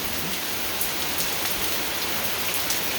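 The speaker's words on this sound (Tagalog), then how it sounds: "Ang lakas ng ulan." Heavy rain falls steadily in woodland, a dense, even hiss of drops pattering on leaves and surfaces, continuous and close with no voices.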